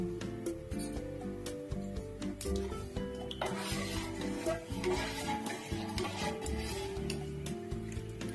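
A pot of buffalo milk clinks and scrapes on a gas stove, with quiet metallic taps and stirring knocks repeating irregularly against a soft steady background hum.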